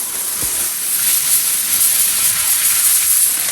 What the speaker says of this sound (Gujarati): જો આ કોર્નફ્લેક્સ આમાં જ એડ કરી દેવાના અંદર.